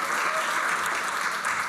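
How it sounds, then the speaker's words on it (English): A conference audience applauds in a steady, full wash of clapping at fairly loud level, continuous throughout with no voices standing out. "everyone should give them a round of applause for putting the conference on today."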